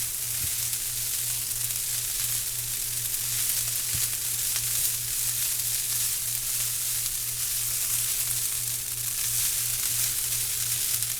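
Fried rice with egg is stir-fried in a pan, giving a constant, even sizzling hiss close by. A low steady hum runs underneath and occasional faint clicks come from the utensil.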